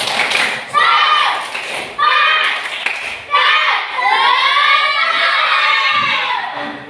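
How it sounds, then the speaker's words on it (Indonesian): A school class claps and chants a rhythmic spirit cheer together, loud close bursts of hand claps and stamping thumps mixed with children's shouted voices in repeated phrases. "sekali lagi tepuk semangat"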